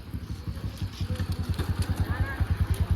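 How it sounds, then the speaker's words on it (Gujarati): A motorcycle pulls up and idles close by, its engine thumping in a steady, even pulse that grows slightly louder, with no talk over it. "આવી ગયું આપણું બાઈક."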